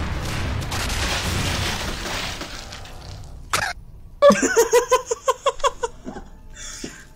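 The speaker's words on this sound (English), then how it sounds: "Whoa, what was red? Just explosions." Rumbling explosions and sharp blasts in the video game Garry's Mod, followed by a rapid series of punchy bursts in quick rhythm, loud and close.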